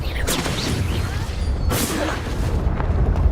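A Confringo fire spell explodes during a Hogwarts Legacy video game duel, a short booming burst set within busy, loud battle effects and crackles over a few seconds.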